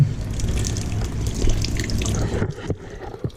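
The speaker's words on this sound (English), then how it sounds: "the water running just a tiny little bit" Water streams steadily from a tap into a sink, a continuous close splashing flow that thins out toward the end with a few drips.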